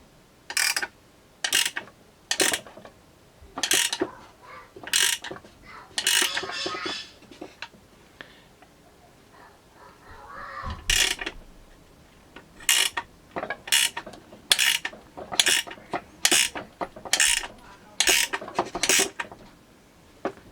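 A tool being cranked down to free stuck bearing races gives a steady run of sharp ratcheting clicks, close and fairly loud, with a brief pause midway before the rhythmic clicking resumes.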